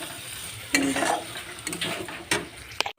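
Onions and potatoes frying in a pan sizzle softly and close, with a few sharp scrapes and clinks of a spoon stirring against the metal.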